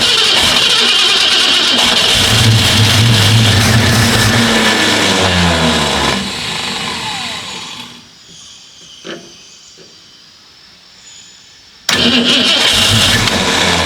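A Ford Mustang engine fires up for the first time after a rough, unfuelled attempt, running loud and close with uneven revving, then dropping away and stumbling before roaring back to life near the end.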